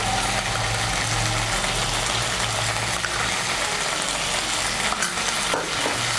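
Spices are stirred and sautéed in a hot pan for a pumpkin curry, making a loud continuous sizzle with a low rumbling undertone and occasional spatula scrapes.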